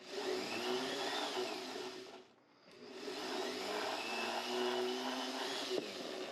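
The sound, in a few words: polishing inside of a quarter coin ring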